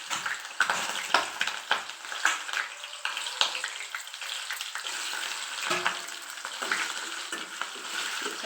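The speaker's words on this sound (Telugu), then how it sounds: "ఆయిల్ వీటెక్కాక ఇలా కడిగి పెట్టుకున్న ఎండు చేప ముక్కలు వేసుకుందాం." Washed pieces of dried fish sizzle in two spoons of hot oil in a kadai, with a lively crackle, frequent sharp pops and occasional stirring close by.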